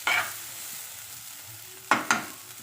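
Papaya flowers fry in a pan with a soft steady sizzle, broken by a few quick scraping stirs near the start and end.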